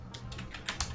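Keys on a computer keyboard clatter in a quick burst of typing, about five or six close, crisp taps over a steady low room hum, with no voices.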